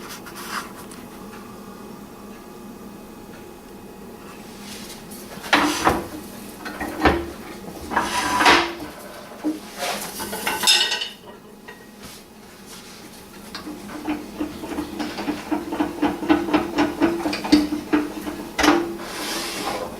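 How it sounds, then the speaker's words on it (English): Hand pull saw cutting the tenon off a wooden bowl, with a rough rasping stroke that builds into a quicker, steadier rhythm toward the end, close and fairly loud with no talk. "just take in a little pull saw or something and just cut that down"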